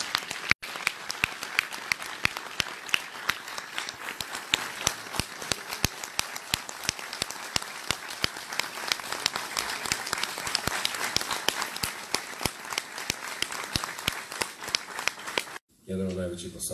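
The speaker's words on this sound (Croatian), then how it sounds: "Molim vas još jedan aplauz." A crowd at an election rally in Bihać applauds, dense rapid clapping that carries on steadily for about fifteen seconds before cutting off abruptly, with a voice heard briefly at the very end.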